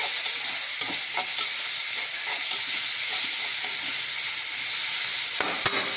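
Dried anchovy thokku is stirred and fried in a pan. A constant, loud oily sizzle fills the scene, with occasional soft stirring scrapes and a brief clatter near the end.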